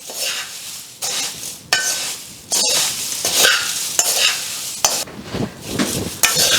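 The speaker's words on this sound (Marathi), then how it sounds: "आता हे पुन्हा आपण छान मिक्स करून घ्यायचं" Pune-style Laxmi Narayan chivda being mixed with powdered sugar gives repeated dry, rustling scrapes and stirs in bursts, fairly close and loud, with no voices.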